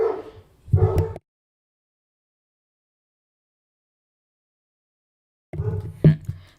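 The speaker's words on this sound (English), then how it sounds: "Dogs are barking at something downstairs, apparently." Dogs bark downstairs in a home in two short bursts of yips and barks separated by a long silence, fairly clear and close.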